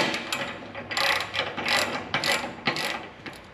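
Bolts on a grapple attachment for a Ventrac power bucket being tightened with a hand ratchet, giving repeated bursts of rapid clicking in a steady back-and-forth rhythm, close and fairly loud with no talking.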